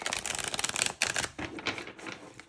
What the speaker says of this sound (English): We're going to do another shuffle here.